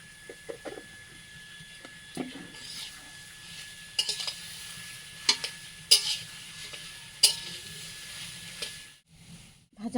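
Fish and ol kochu (elephant foot yam) are stirred in a pan with salt, turmeric and chili powder, giving quiet scraping strokes and a few sharp utensil clinks over a faint sizzle, with no voices.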